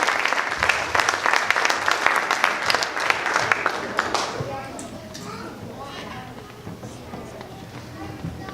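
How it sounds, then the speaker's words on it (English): Audience applauding karate students at an evening karate show, dense steady clapping for the first four seconds that thins into scattered claps and murmured crowd chatter. "Let's give them a big round of applause"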